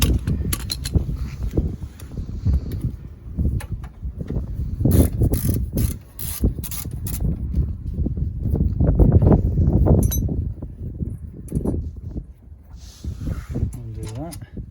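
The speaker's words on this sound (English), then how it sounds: "Okay, back to the normal ratchet." A hand ratchet undoes a bolt on the brakes of a Land Rover Freelander during a disc and pad job, giving repeated clicking bursts close up among mechanical clinks and rubbing.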